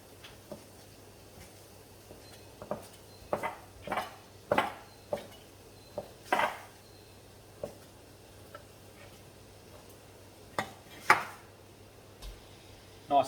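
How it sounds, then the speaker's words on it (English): A knife rough-chopping ingredients for a honey soy chicken stir-fry: irregular, fairly close taps and thuds on a board, spaced unevenly over several seconds against a quiet background hum, with no talking. "Nice and thin, doesn't have to be super pretty. Just rough chop."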